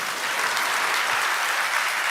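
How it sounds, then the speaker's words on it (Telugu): A church congregation claps together in praise during a sermon, producing a dense, even wash of many hands, loud and sustained throughout with no speech over it. "చప్పట్లు కూడా దేవుని మహింపరచండి"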